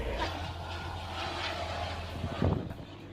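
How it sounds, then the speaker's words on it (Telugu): An aeroplane, with a helicopter, passes overhead outdoors as a steady, moderately loud engine drone, swelling briefly near the end with some wind buffeting. "ఇటు నుంచి ఒక ఏరోప్లేన్, అటు నుంచి ఒక హెలికాప్టర్."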